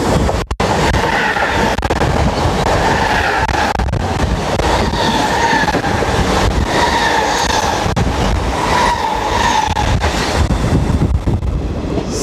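An Indian Railways Garib Rath Express between Mumbai and Jabalpur runs steadily, a loud, continuous rumble and rattle of coaches on the track, with faint rhythmic wheel clatter and no voices.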